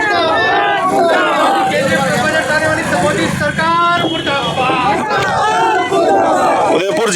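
Crowd of farmers and workers at a protest rally chanting slogans in unison, loud rhythmic shouted calls and responses with babble underneath, close and sustained throughout.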